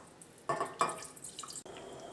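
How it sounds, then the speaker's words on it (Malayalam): Water poured into a pot of chicken bones being simmered for stock, a couple of short splashy pours followed by dripping, close and fairly quiet. "ഇതിലേക്ക് നമുക്ക് വെള്ളം ചേർക്കാം."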